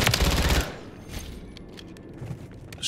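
A burst of rapid automatic fire from an ISO 9mm SMG in a first-person shooter video game rattles loudly for about half a second, then a reverberant tail fades to quieter game ambience.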